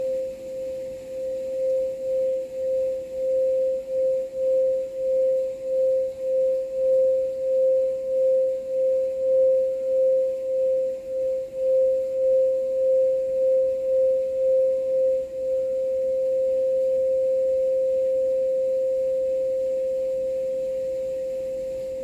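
Sound bowl ringing after a mallet strike, a loud sustained pure tone with a steady wobbling beat pulsing in volume for about fifteen seconds before settling into a smoother, slowly fading hum.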